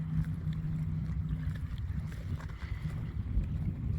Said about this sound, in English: And listen to the boats,